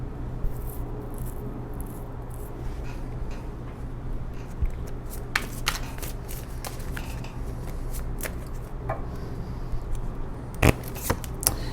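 Tarot cards being shuffled close by in a quiet room, soft riffling and sliding with sharp, irregular snaps of cards against each other, faint and without speech.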